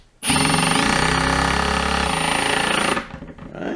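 A power drill drives screws into a board, starting with a loud, steady mechanical whir that holds for about three seconds and then drops off abruptly to a quieter rattle.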